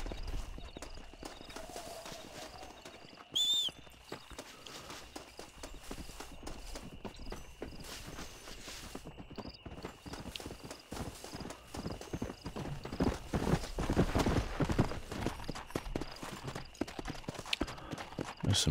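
Horse hooves clip-clopping in the video game Red Dead Redemption, a steady walking rhythm of light clops that grows louder and busier later, with a brief high ringing tone early on.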